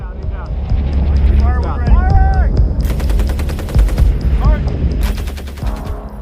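A machine gun fires in bursts during a military test exercise, sharp rapid volleys cutting through a loud rumbling background, with people talking at times over the noise.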